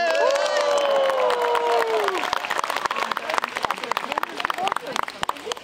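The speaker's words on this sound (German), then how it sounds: "Die Gemeinde jubelt für Doro." Congregation at a Dortmund carnival-style gathering cheering and clapping, a loud sustained crowd roar with whistling at first, then dense applause and scattered shouts.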